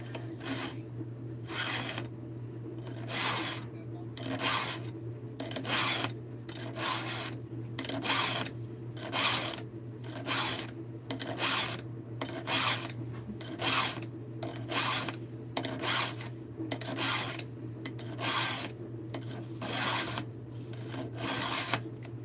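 A hand file rasps along a skip chainsaw chain on a 36-inch bar in a steady rhythm of short, regular strokes, each a crisp scraping burst over a constant low hum, with no talking.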